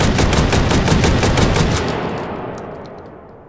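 Rapid automatic shotgun blasts from an AA-12 loaded with flechette shells in Hot Dogs, Horseshoes and Hand Grenades, a dense loud volley of shots that stops and trails off into a fading echo.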